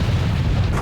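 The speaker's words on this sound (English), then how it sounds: "It was a sickening, cracking rumble, explosions, boom." A deep, rumbling explosion boom with a cracking edge rolls on heavily and continuously, low and loud, for under a second.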